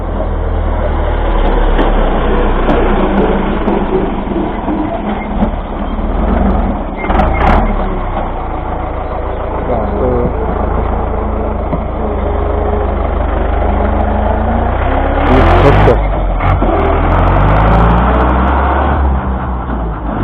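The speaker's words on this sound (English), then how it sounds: "this truck is making some noise" A heavy truck engine idles and rumbles loudly and steadily nearby, with a few brief higher clanks and a faint repeating beep partway through.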